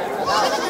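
A goat bleats amid the bustle of a Sunday goat market in Bahraich, a single wavering, nasal cry standing out near the middle of a steady crowd murmur.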